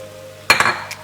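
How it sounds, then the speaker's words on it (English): An onion and chilies are stirred in a non-stick pan for a vegetarian quinoa dish. After a short quiet stretch, a spatula scrapes and clinks against the pan in close, brisk bursts over a faint cooking hiss. "So you're just gonna stir that around and let it cook."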